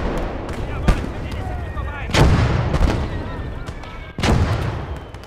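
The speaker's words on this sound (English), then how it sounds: "Our own bloody mortars." Mortar shells from a 10 cm mortar detonate close by on a World War II battlefield in Gates of Hell: three heavy booming blasts, each a loud broadband burst with a rumbling decay, amid scattered distant gunfire.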